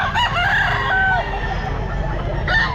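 A young stag rooster crows up close and loud at a pet market, one full drawn-out crow with clucking fowl around it and a hint of people nearby.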